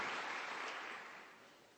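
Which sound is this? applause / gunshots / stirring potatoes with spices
applause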